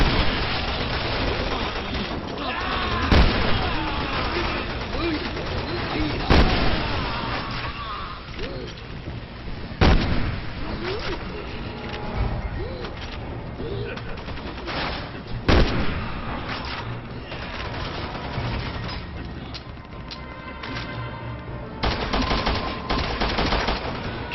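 Bursts of gunfire ring out in a Resident Evil 6 rooftop battle, sharp shots cracking every few seconds over a constant dense rumble of combat and rain-like noise.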